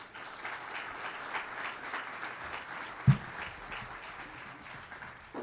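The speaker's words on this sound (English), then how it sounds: "I think that deserves an applause" Audience applauding a university professor celebrating his 51st year, a moderate, even round of clapping from a seated crowd with one sharp thump partway through.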